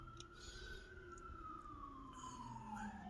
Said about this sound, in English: now you're hearing the sirens